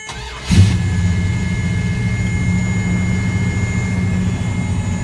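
A 1970 Dodge Coronet's six-pack V8 turns over and roars to life, then holds a deep, throaty idle that rumbles steadily and slightly fast for the rest of the clip, not yet warmed up.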